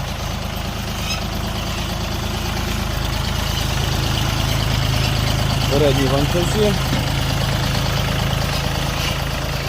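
A Dongfeng 24 tractor's three-cylinder engine idles with a steady low chugging rumble, close by, while someone talks over it.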